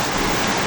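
Heavy rain and strong wind pour down steadily in a downpour at Clark, Pampanga, a dense, loud, unbroken hiss with no pauses or voices.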